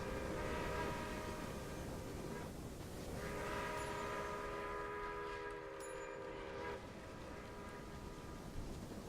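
Many trains running in the Railway Empire video game, with a sustained, steady rail rumble and long layered horn tones that overlap, fade briefly and return, moderately loud and continuous.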